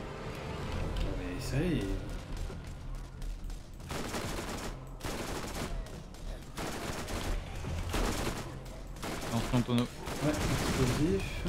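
Sustained bursts of turret gunfire in Borderlands' zombie island DLC, loud rapid fusillades repeating over several seconds with brief pauses, while a player talks over the shooting.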